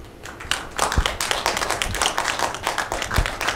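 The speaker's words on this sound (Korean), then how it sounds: "박수 부탁드리겠습니다." Audience clapping at a book launch ceremony, a moderate crowd applauding with individual claps audible at close range, steady and lively for the whole stretch.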